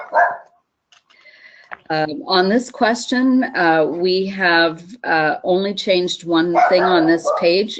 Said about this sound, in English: I apologize for that dog barking in the background